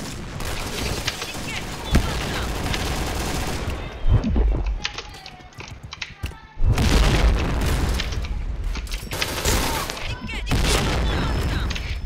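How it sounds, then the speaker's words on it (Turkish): A bomb goes off in the Point Blank shooter game with heavy booms amid steady gunfire, a sharp blast landing near the middle over busy combat noise. "Bomba patladı axı yanında."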